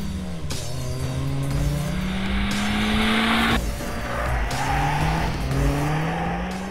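A Toyota Yaris GRMN hot hatchback revs hard from standstill to redline, climbing through several gear changes with loud, rising whines and brief dips between shifts.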